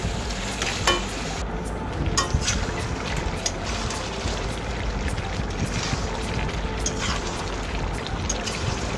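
Chicken and potato curry cooking in a pan, a loud, constant bubbling sizzle with a few sharp clinks of stirring over it.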